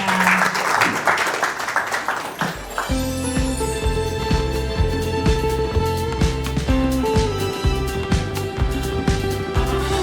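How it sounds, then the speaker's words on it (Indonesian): Audience applause at a book discussion event on infant sensory development fills the first couple of seconds as loud, dense clapping, then gives way to steady music that carries on to the end. "Mana nih tepuk tangan ya."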